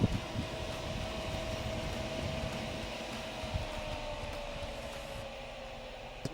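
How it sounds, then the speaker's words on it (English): An air conditioner fan in a Kimberley Kube camper trailer runs at its lowest speed setting, a steady broadband whoosh with a faint hum, continuous and moderately loud. "now I can turn my fan down"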